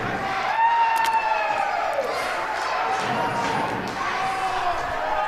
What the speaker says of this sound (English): The crowd clearly getting into it